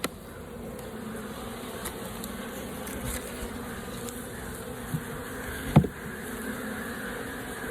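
Honey bees buzz steadily at an open beehive, a dense continuous drone with a couple of brief knocks and thumps near the end.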